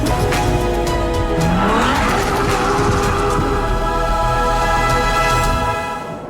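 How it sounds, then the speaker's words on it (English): A Ferrari 812 breaking traction, its tires squealing in a long skid while the V12 engine revs hard through the gears on a chilly day, loud and close with no talk. "We're breaking traction at second, third, and fourth gear."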